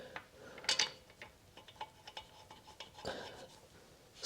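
Socket wrench ratcheting on the bolts of a BYD Atto 3 spare wheel, scattered quick metallic clicks and ticks with a couple of sharper clacks, close and fairly quiet, with no talk.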